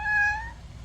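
A single short cat meow, close and clear, rising briefly and then trailing off.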